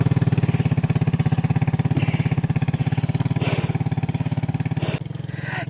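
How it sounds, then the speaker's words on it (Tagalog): A motorcycle engine runs steadily close by, its rapid, even pulsing throb continuing throughout with a slight dip near the end and no talk over it. "Ano saya naman ang motor ni Mario."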